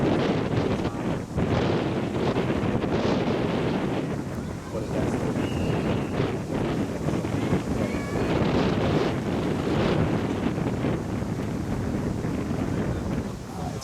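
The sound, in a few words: gusty wind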